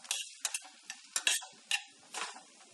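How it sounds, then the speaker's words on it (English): Linguine in tomato sauce with rocket is stirred around the pan, producing soft, wet scraping swishes and light clicks, fairly close and quiet, in a few uneven strokes. "I'll just give that a little stir around"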